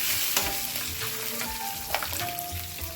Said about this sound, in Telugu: ఇందులోనే ఇప్పుడు ఎల్లుల్లిపాయలు, పచ్చిమిర్చిలు కూడా వేసి ఫ్రై చేస్తాం.